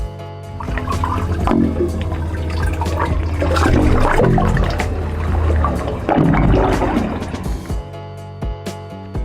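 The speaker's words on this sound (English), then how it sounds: "At high tide, you can hear the waves crashing into the underwater tubes and echoing the noise through the organ above" At San Francisco's Wave Organ, waves surge into underwater pipes at high tide, producing loud, gurgling, rushing swells that rise and fall, echoing hollowly for several seconds before thinning out.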